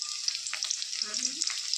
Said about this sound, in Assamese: তেল গৰম হোৱাতে পিঁয়াজ দি দিছোঁ